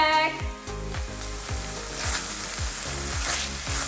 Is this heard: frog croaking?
no